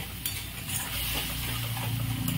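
Spice masala with Kashmiri chili powder is stirred and sautéed in a pan, a steady soft sizzle with scraping and clinking of a spoon against the metal, fairly quiet and continuous.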